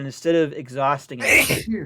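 A single sharp sneeze bursts out between stretches of speech during a live board game playtest, close and loud, with talk just before it.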